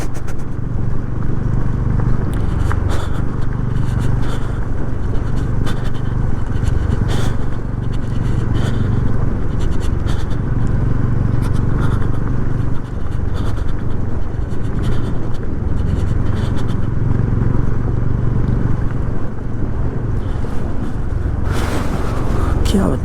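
A vehicle engine braking down a snowy winter mountain road in Spiti, heard from inside as a constant loud low engine drone with road rumble that barely changes throughout.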